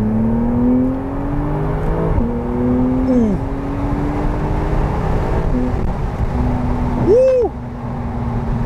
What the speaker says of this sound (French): On entend bien le Flat 6 rageur là. On a une belle sonorité